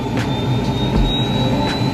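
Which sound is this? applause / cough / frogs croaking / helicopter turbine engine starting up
helicopter turbine engine starting up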